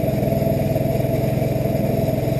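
A Vespa GTV 250i scooter engine idles steadily just after a restart, a close, loud, even putter with a rattling mechanical clatter and no voices.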